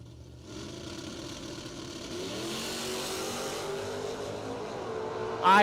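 Big block GTO drag racing cars at a bracket race launch and rev, a low engine rumble building and holding steady at moderate distance before a brief louder burst at the end.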